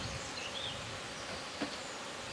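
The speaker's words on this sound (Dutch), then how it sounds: "Benny, we staan bij een bijenstal." Bees buzz at an outdoor apiary on a cold day, a steady dense hum filling the whole stretch at moderate level, with no voices.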